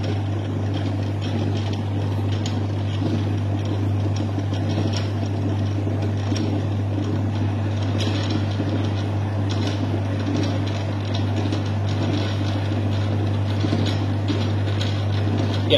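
An automatic film processor's motor hums steadily as film feeds in, a constant low drone with faint mechanical clicks over it.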